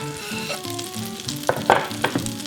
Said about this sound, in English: Once the butter is foaming, we're going to add the garlic